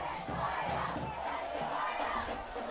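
A high school football game crowd with the cheer team cheering and shouting, a continuous loud mass of voices throughout the short stretch.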